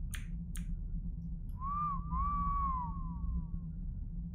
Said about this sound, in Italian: Fischietto.